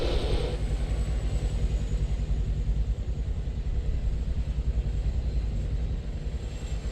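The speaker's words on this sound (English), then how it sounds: "And the helicopter is going to land at its original spot" A military helicopter lands in the Arma 3 video game, giving a steady, loud, low rotor-and-engine rumble with a fast pulsing chop that holds throughout, with no voices.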